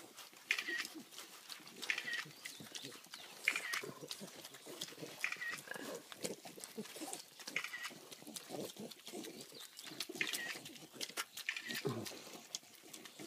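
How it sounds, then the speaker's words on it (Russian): Pigs eat sushi, giving quiet, busy chewing and snuffling noises with soft grunts over about thirteen seconds, heard faintly alongside distant bird chirps. "Офигеть, наши свинки кушают суши."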